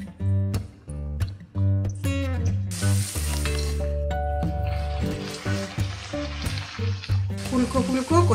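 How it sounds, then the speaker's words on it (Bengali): Pea-stuffed kachori deep-frying in hot oil in a wok, loud bubbling sizzle with repeated clattering stirs and scrapes, steady throughout. "এবার কচুরিগুলো ভেজে নেব।"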